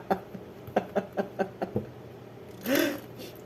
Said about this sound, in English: Forgive my shuffling.